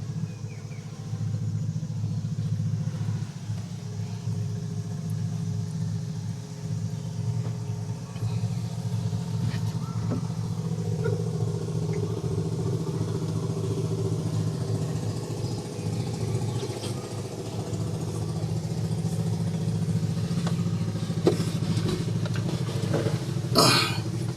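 A boat engine, apparently the one being mounted on a platform, idles with a steady low rumble that holds for the whole stretch at moderate level, with faint knocks and clanks and no speech.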